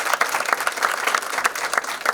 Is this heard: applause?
yes